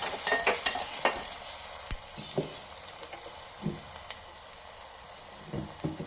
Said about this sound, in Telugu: కొంచెం కరివేపాకు వేసుకుందాం. ఆనియన్స్ అయితే మగ్గినాయి.